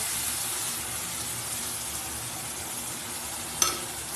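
Cabbage manchurian in sauce cooks in a pan while being stirred, making a faint, steady sizzle with one brief clink near the end.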